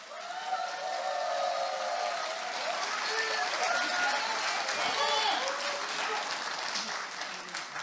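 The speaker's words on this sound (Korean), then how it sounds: "박수로 받아 주십시오." A party convention crowd applauds at a regional joint speech rally, loud continuous clapping mixed with cheering and shouts from a large audience, holding steady throughout.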